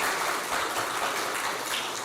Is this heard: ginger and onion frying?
no